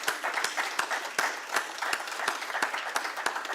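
An audience applauds at an audit workshop, a steady dense patter of many hands clapping at moderate volume throughout, with no voices over it.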